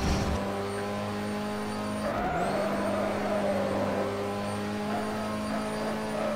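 Car engine in the Rally Factor rally video game, revving at a steady high pitch with a brief tire skid partway through, loud and close with no talk.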